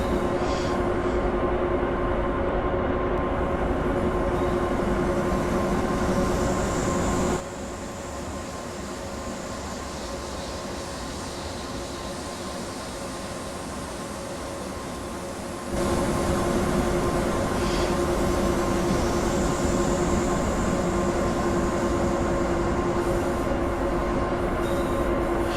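An OBB 1044 electric locomotive runs in Train Simulator 2016 on the Three Country Corner route, giving a steady, even cab rumble with a constant hum that drops briefly quieter midway, then returns. No voices are heard.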